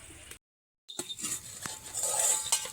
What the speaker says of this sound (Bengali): ঢাকনাটা খুলছি